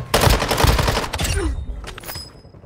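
A loud, close burst of rapid gunshots in Warzone Mobile cracks for about a second and a half, then trails off into quieter echoes.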